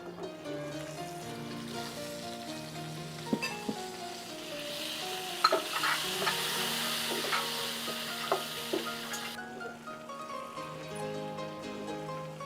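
Cauliflower sautéing in a pan, a steady hiss with soft stirring scrapes and clinks throughout, rising into a louder, brighter sizzle partway through before settling back.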